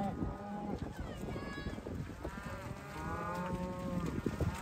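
Several cows low and moo in overlapping calls in a pasture in upstate New York, close by, with a person shouting over them and a busy outdoor background.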